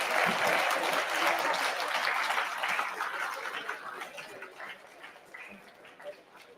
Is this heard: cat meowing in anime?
no